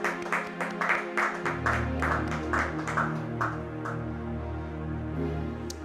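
A church congregation clapping rhythmically in praise of the Lord, steady unison claps over sustained organ-like music that fade after a few seconds, leaving the music alone.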